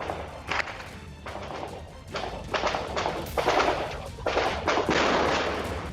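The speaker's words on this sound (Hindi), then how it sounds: "थोड़ी ही देर में गोलीबारी और धमाकों की आवाजें गूंजने लगी।" Repeated sharp bursts of gunfire crack in irregular clusters, mixed with heavy booming thuds of explosions, loud and close, continuing throughout, during an armed encounter.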